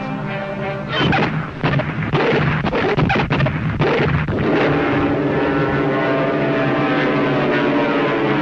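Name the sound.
American dive bomber propeller aircraft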